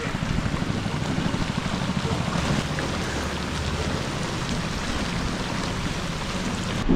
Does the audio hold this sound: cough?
no